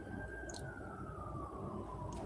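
A faint, distant emergency vehicle siren, a thin wailing tone that slowly falls in pitch beneath a low steady background rumble, with no speech.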